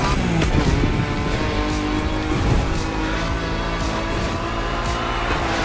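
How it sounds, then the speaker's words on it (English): Nissan Nismo car in The Crew Motorfest, tuned with upgraded exhaust, brakes, tires and suspension, roaring loudly at full throttle with dense engine noise and some tire hiss throughout, no talk. "Time to put that Nismo high car to the test. Punch it!"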